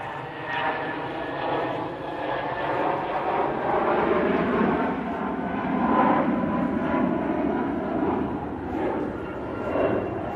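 A jet airliner rolls down the runway at Manchester Airport on its takeoff run, a steady broad engine roar swelling and holding for about ten seconds at moderate distance, with talk over it.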